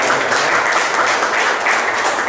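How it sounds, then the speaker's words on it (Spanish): An audience applauds after a homeopathic medicine lecture, giving steady, dense clapping that stays even and fairly loud from start to finish with no voices over it. "Creo que primero un aplauso."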